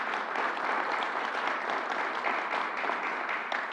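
Steady audience applause fills a press briefing hall at a governor's announcement in New York City, dense and even throughout without a break.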